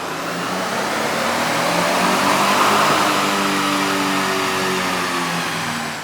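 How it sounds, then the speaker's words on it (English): A tuned Toyota Tundra's engine accelerates hard through the gears on the road. It is loud and close, with a continuous roar that rises in pitch and swells steadily for about six seconds with no talking. "Shift into 3rd, shift into 4th. Let's go and log this, and let's roll onto it."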